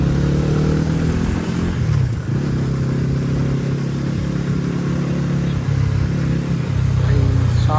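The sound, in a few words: Bajaj Pulsar NS400Z motorcycle engine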